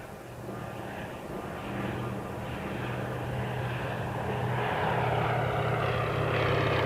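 A Fairey Swordfish torpedo biplane's propeller engine drones steadily and close, its rough, even roar swelling slightly louder over several seconds with no voices.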